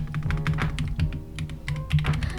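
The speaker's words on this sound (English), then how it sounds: "I'm typing." Steady rapid typing on a computer keyboard, close and clear, with dense clicking keystrokes running continuously over a low background hum.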